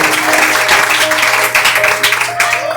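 A congregation in a church service claps loudly in praise, dense rhythmic clapping mixed with voices and a sustained musical tone underneath.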